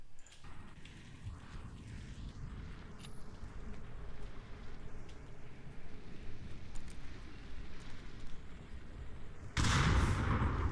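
Muffled, distant gunfire in the Onward VR tactical shooter during a competitive scrim, low rumbling shots running under the match, with a sharper, louder burst of fire close by near the end.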